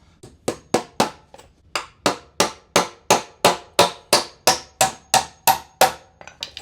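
A 16-inch on-center framing tool sets a wall stud while a hammer drives nails, about fifteen sharp, evenly spaced blows landing close and loud with brief ringing decay, then a quieter final tap.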